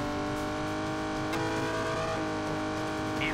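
Rally car engine in the Old School Rally video game, a steady droning hum with harmonic tone that rises and falls as the car revs through a stage, loud and continuous with a brief tire squeal.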